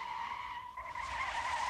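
Car tires skidding with locked wheels on a vehicle without ABS, a sustained high squeal that wavers briefly then holds steady and loud.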